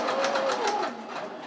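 A sewing machine runs a zigzag stitch while elastic garter is pulled through for a rice pot bonnet, a steady close whirring hum lasting throughout without pause.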